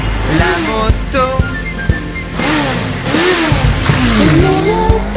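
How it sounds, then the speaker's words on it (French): Motorcycle engine effect inside a children's song, revving and accelerating with rising and falling pitch sweeps over a steady musical backing, loud and continuous. "la moto,"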